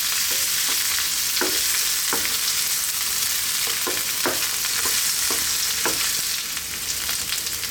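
Salmon fries skin side down in hot oil with garlic and ginger, giving a steady, close sizzle and crackle with occasional soft clicks and scrapes of stirring throughout.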